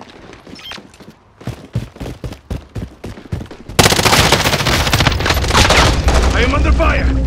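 Call of Duty battle royale firefight: a string of separate, punchy gunshots gives way to loud, continuous rapid fire and blasts that fill the rest of the moment.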